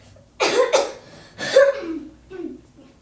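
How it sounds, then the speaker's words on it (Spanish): A few harsh coughs, two quick ones and then another, close to the mic with a short throaty sound trailing after. "¿Ya terminaste de toser?"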